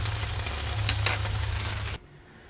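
Sugar snap peas with bourbon cooking in a hot pan, a dense steady sizzle over a low hum that cuts off abruptly near the end.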